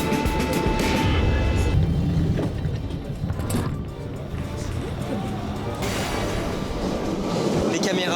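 A Paris-style metro train rumbles along inside the carriage, a continuous loud rolling roar with squeals and rattles throughout, while people talk over it.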